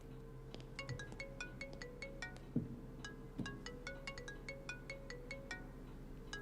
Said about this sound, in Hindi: ए, मेरा फोन है, लेकर आ।